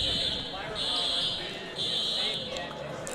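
A fire alarm in a gym during a college basketball tournament, a loud high-pitched electronic buzz pulsing in long repeated bursts, heard under an announcer talking.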